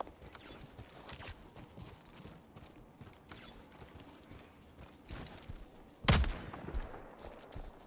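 Gunfire in Helldivers 2, scattered sharp shots and mechanical clicks across a busy battle, capped by one loud close blast near the end amid distant clatter.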